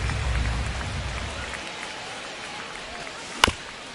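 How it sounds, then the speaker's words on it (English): Steady rain hisses down over a baseball game, with a dense, even wash of drops throughout and one sharp crack near the end. "It feels like we might be headed towards a rain delay if the weather doesn't ease up, Chris"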